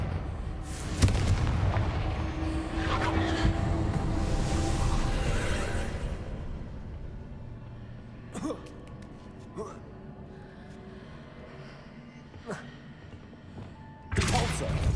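Confringo fire spell blasts in Hogwarts Legacy, a loud booming burst and rumble over the first seconds, then scattered sharp thumps and cracks, with a voice shouting over the action.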